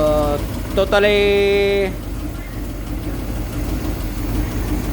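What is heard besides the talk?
1956 Ford F350 V8 engine running after 15 years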